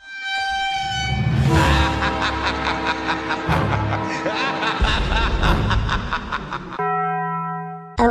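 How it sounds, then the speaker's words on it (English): A train horn and chugging effect sounds in a kids' drawing game, a loud harmonic honk with rhythmic pulses lasting several seconds, ending in a sustained tonal blast, with game music or effects layered alongside. "Train."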